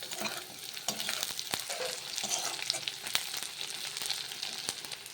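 Whole garlic cloves fry in hot oil alongside browned onions, giving a steady, busy sizzle close by, broken by sharp clicks and scrapes of a spatula stirring the pan.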